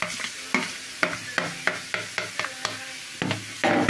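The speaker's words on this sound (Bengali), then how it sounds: "ওই যে গাজরটা ভাজা ভাজা হয়েছে" Grated carrots for carrot halwa fry and are stirred in a pan, making a run of about a dozen sharp, regular scraping strokes over a soft sizzle and ending in a louder rustle.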